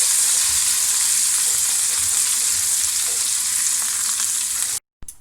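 Cumin sizzles loudly in hot oil for an eggplant dish as it is mixed, a dense, bright, steady frying hiss up close that cuts off abruptly near the end.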